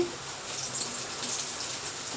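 Steady rain falls in a continuous broadband hiss, with faint pattering on surfaces and no talking.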